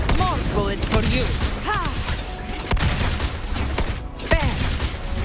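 Gunfire bursts from combat in the video game Wuthering Waves, with sharp shots and booms scattered across a busy mix of music and effects, and a voice speaking over the action.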